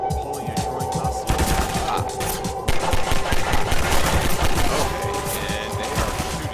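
Enemy gunfire in Half-Life 2, sustained rapid automatic bursts with crashing impacts, loud and continuous throughout with no talk.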